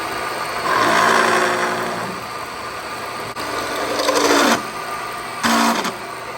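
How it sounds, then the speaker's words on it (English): A drill fitted with a countersink bit cuts into the holes of a metal plate in a few sustained whirring runs of rising and falling pitch, loud and close, with brief pauses between the cuts. "Now I'm just gonna come in with a countersink bit and countersink each hole for my countersunk Allen bolt."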